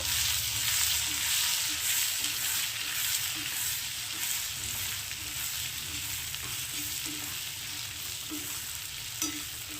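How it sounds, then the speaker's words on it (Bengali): Large-cut onion and capsicum fry in hot oil in a pan, giving a steady close sizzle with soft stirring scrapes throughout and no talk. "এই তেলের মধ্যেই আমি পেঁয়াজ আর ক্যাপসিকামটা বড় করে কেটে রেখেছি সেটাকে দিয়ে দিচ্ছি এটাকে হালকা একটু ভেজে নেব"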